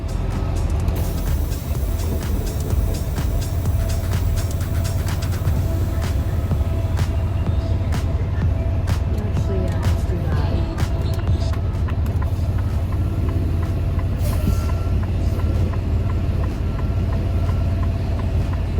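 A semi truck slowly maneuvering and reversing around a blind corner in a parking lot, its diesel engine giving a steady, loud, continuous low rumble throughout with faint intermittent clanks, heard from inside the cab.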